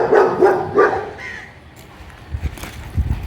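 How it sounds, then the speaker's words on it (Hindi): Dogs barking at someone outside a home: a few sharp barks in quick succession up front, then quieter whimpers and low rustling as the barking dies down. "मेरे बाहर कोई आ गया इसलिए उनको भौंक रहे।"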